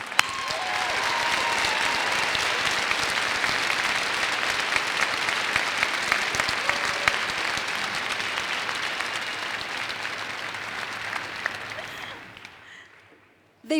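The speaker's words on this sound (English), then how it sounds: "Please join me in another round of applause for these very impressive" A large crowd applauds at Utah Valley University's 78th commencement, a dense, steady roar of clapping that holds for about twelve seconds before tapering off abruptly.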